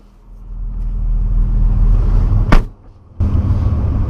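A Ford GT accelerates hard on a road trip in France, its engine building to a loud, close roar, then a brief sharp whoosh, a dip, and the engine surging again.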